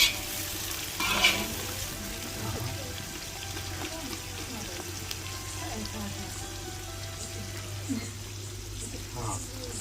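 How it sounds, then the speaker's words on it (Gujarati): Onion and spice mixture frying in oil gives a soft continuous sizzle with occasional stirring scrapes, fairly quiet against a low steady hum, while a person talks faintly now and then. "તો આપણે એને વ્યવસ્થિત તળવા દેવાની છે."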